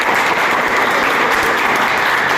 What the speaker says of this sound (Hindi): अब एक hand round of applause everyone